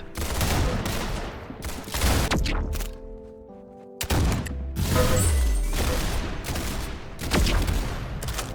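Rapid gunfire bursts from weapons in the Roblox shooter Arsenal, loud, close and repeated across the stretch, with a short quieter gap in the middle before more volleys of shots.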